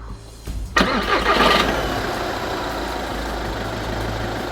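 A broken Seat Leon with a known knocking noise cranks briefly and catches, then settles into a steady low idle that continues close and loud to the end.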